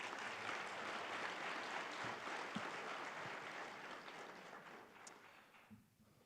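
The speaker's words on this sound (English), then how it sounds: "So if we give Brad a round of applause too" An audience at a girls and women in sports luncheon gives a steady round of applause, a dense wash of clapping from across the room that gradually tapers off, with a soft voice emerging at the end.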